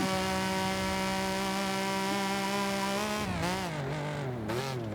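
A Mercedes-Benz SSK engine in Forza Horizon 5, a steady buzzing drone held at constant revs during a hill climb, then wavering and shifting in pitch as the throttle changes near the end.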